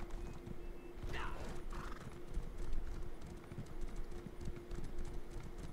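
A horse in the Elder Scrolls Online game neighs with a sharp whinny, then snorts over steady clip-clop hooves, all fairly quiet under a constant low game hum with no talk.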